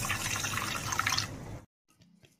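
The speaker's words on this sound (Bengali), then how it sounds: "এই চাউলটি এখন আমি ধুয়ে রেখে দেব।" Gobindobhog rice being washed in water, a close splashing and swishing rush that stops abruptly, followed by a few faint drips and knocks.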